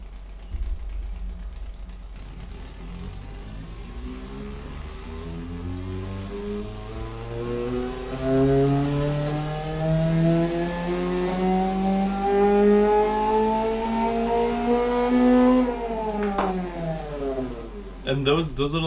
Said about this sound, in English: we'll just do a full dyno test